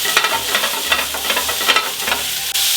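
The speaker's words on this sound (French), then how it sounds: "On va pas les faire cuire, juste les faire saisir." Merguez sausages searing in a hot pan give a loud, dense, continuous sizzle with light stirring clatter, close up and with no talking.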